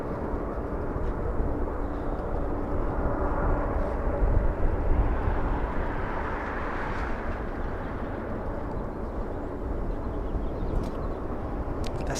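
A Southwest Boeing 737-700 airliner at LAX lines up for takeoff toward Salt Lake City, its jet engines a broad, steady distant roar that swells slightly midway, with no talk.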